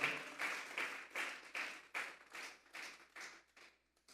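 A church congregation claps as an offering to God during a Spanish-language service, the claps coming in rhythmic surges that swell and fade over a few seconds, fairly faint and distant.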